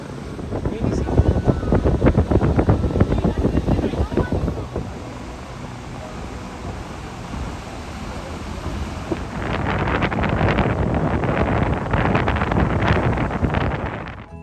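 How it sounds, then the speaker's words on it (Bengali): Loud wind gusts rumble against the microphone, easing briefly midway before big waves crashing on rocks and blustery wind surge back strongly, close and continuous, on the Kangaroo Island coast, Australia. "এত হাওয়া চারদিকে আর সেই রকম বড় বড় ঢেউ পাথরের উপর আছড়ে পড়ছে"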